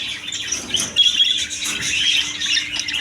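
A pair of budgerigars with chicks in a shop cage give bright, scattered chirps and warbling chatter, fairly close and steady throughout.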